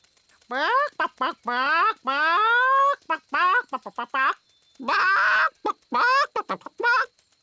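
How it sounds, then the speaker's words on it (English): A cartoon hen voiced by a performer clucks in a children's animated fairy-kingdom show, giving a series of loud, close, pitched clucks and squawks in rapid bursts with short pauses between. "Look, there's our chicken."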